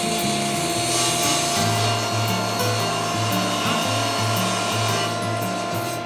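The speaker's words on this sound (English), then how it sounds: "I also trim the bottom shelf to the same dimension." A power saw cuts through a wooden shelf, trimming it to size, with a steady, loud droning whine and a rhythmic pulsing tone that holds throughout, with no talking.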